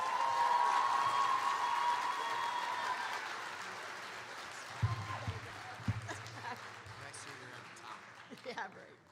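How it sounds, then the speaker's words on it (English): A high school class night crowd applauds the last guest presenter, a broad wash of clapping and some cheering that fades over several seconds, with a few thuds and low rumbles near the end and voices talking throughout. "now a rousing round of applause for our last guest presenter of the Washington Club"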